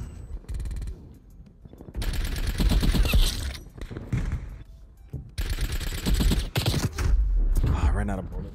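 Rapid automatic gunfire rattles in Black Ops Cold War in two long loud bursts separated by quieter gaps, with a player talking over the action.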